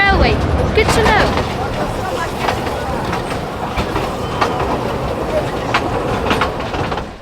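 Narrow gauge train of the Środa County railway in Poland running on rails, close rhythmic clickety-clack of wheels over joints with rumbling carriage noise and a voice talking over it.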